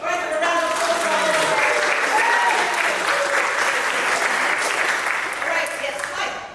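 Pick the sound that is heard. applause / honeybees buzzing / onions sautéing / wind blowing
applause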